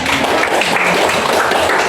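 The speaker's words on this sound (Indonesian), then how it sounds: "Ya, kita berikan tepuk tangan" An audience claps together in a classroom teaching session, steady dense applause filling the whole moment at a fairly loud, even level with no pauses.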